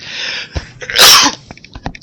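A single sharp human sneeze bursts out suddenly, close and loud, between quieter breathy sounds and small clicks.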